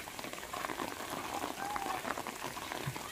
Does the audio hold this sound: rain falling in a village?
yes